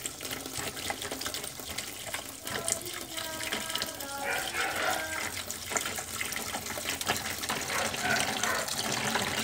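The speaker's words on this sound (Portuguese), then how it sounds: "Vou colocar água até cobrir aqui o roteador." Water runs from a tap into a container to cover a Wi-Fi router, making a continuous rushing, splashing fill that persists throughout, with a voice heard faintly alongside.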